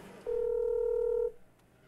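A single steady telephone tone rings out alone for about a second, loud and close, the sound of a call being dialed to a number that goes unanswered, with quiet room hiss before and after.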